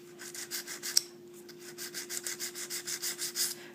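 A nail file rasps back and forth across acrylic nails in a steady, even rhythm of short strokes, close by, over a low constant hum.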